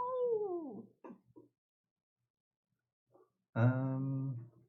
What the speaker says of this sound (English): Cat is being super noisy today.